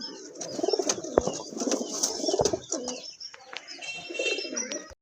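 Several large desi pigeons, maxi-coloured, cooing softly and repeatedly close by, with chirps and a faint flutter of wings against a quiet murmur of background voices.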